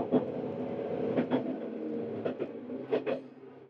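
A Tadami Line sightseeing train departing Nishi-Wakamatsu Station rumbles steadily along the tracks, with repeated rhythmic clicks and clacks from the wheels over rail joints, heard from inside the carriage.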